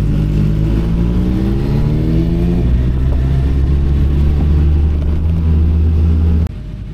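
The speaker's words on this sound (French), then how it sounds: "Il y a beaucoup de motos qui passent." Motorcycles stream past on an Isle of Man road during the TT races, a loud, continuous engine roar with rising and falling pitch as bikes pass close by, cutting off abruptly near the end.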